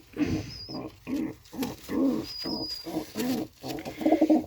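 Pigeons coo in a steady series of low, throaty calls, close by, repeating in soft rounded bursts with brief pauses between.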